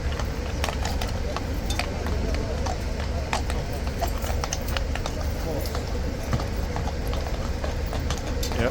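Hooves of a Horse Guards horse clip-clop steadily on hard pavement outdoors amid traffic and a crowd, the irregular clatter of a restless grey horse running continuously under people talking.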